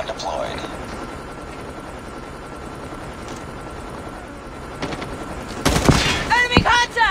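In a Call of Duty match, a deployed sentry gun opens fire in the second half as a loud burst of rapid shots. Game voice lines and a low engine-like drone sit underneath.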